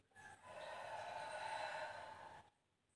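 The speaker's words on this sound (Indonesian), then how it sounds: "buang nafas lepas dari mulut" A long exhale through the mouth during a breathing exercise for mental fatigue, one soft airy breath lasting about two seconds, close and quiet, then silence.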